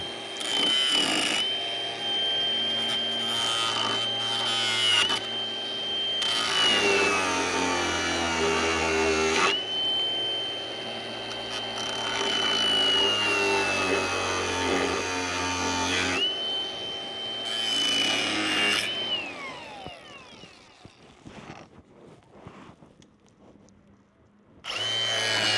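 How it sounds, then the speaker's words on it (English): Power tool cutting bolts off the back of a rock-damaged trailer tail light housing: long, loud whining bursts of a cutting tool, pausing and restarting several times with pitch shifts as the blade bites, then trailing into clatter and quiet near the end. "Cut these bolts off the back."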